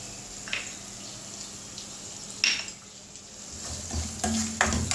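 Chopped green chillies and turmeric sautéed in a pan for a cabbage dish, a soft continuous sizzle broken by a few spatula scrapes and stirring clicks, close and unaccompanied.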